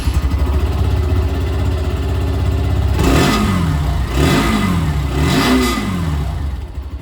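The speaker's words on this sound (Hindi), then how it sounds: "जो एग्जॉस्ट साउंड है ये भी मैं आप लोगों को सुना दूँ। और सबसे पहले यहाँ पर स्टार्ट करेंगे 125R" A Hero Xtreme 125R motorcycle idles with a steady exhaust burble, then takes three quick throttle blips, each rising and falling in a rev-and-drop pattern, loud and close.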